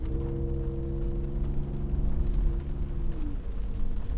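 Engine of a modified Ford F-150 Raptor Roush Edition truck running on a cold day, a constant low droning tone with a steady whine, heard close and continuous without speech.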